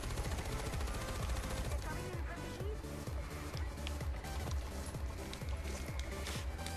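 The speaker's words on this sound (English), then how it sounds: "I'm just gunning them down." Rapid automatic gunfire in the video game Far Cry 4, dense repeated bursts that continue without pause, loud and continuous amid other game noise.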